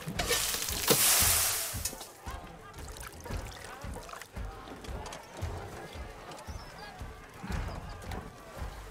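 Food cooks in the video game Horizon Forbidden West, starting with a burst of sizzling and clattering that settles into softer bubbling and scraping, with hooflike knocks and a voice speaking underneath.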